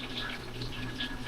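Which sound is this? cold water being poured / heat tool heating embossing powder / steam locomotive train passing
cold water being poured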